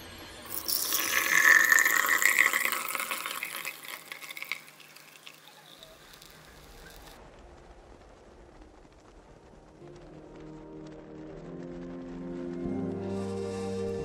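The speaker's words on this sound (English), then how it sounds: "I'm straining the rice water." Fermented rice water pours and trickles through a strainer, a loud splashing stream at first that thins to faint dripping, followed by soft handling noises.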